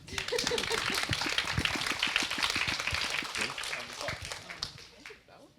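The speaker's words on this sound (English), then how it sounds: "You can clap now, I'm finished." An audience claps at a literary talk, dense and fairly loud applause filling the room from the start, then thinning and fading toward the end.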